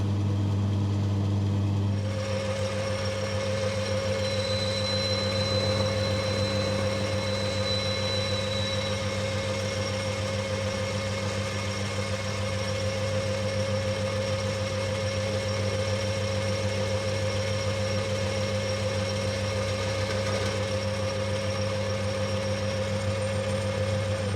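A lathe facing the end of a part hums steadily with a constant tonal whine and low drone, a faint cutting screech briefly rising early on, running without pause.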